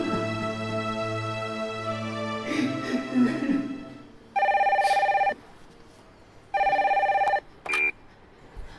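A tonal melody plays first, then a phone rings in two long electronic bursts followed by a short third one, loud and near, with no talking.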